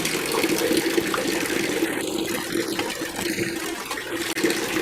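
Steady, loud rush of water pouring from a tap fed by an instant electric water heater, continuous and close for the whole stretch with faint clinks over the flow.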